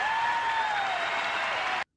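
A baseball crowd gives Cal Ripken a sustained ovation, dense steady applause that fills the scene and then cuts off abruptly.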